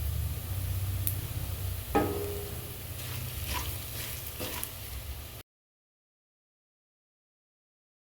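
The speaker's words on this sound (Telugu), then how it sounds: "పిండి మంచి వాసన వచ్చేదాకా ఫ్రై చేసుకోవాలి" Green chilies, salt and gram flour sizzle in a pan, a steady close frying hiss with a few stirring scrapes and taps before it cuts off to silence.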